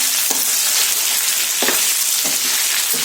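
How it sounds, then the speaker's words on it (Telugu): Chicken coated in chilli powder fries on high heat in a pan for a red roast, giving a loud, dense, continuous sizzle close by, punctuated by several scraping stir strokes and no voices. "దీన్ని ఇంకొక 2 నిమిషాలు మనం హైలో పెట్టి ఇలాగే ఫ్రై చేసుకోవాలి."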